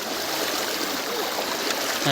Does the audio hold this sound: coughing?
no